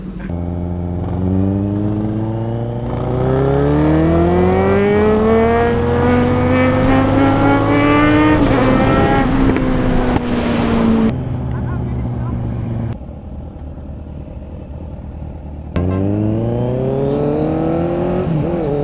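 A Kawasaki ZX10R sport motorcycle engine revs and climbs through the gears with auto-blip quick shifts, a loud rising whine broken by short gaps and pitch drops, heard close with people talking over it.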